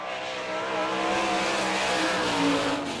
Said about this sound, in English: That's a Westmar racing engine.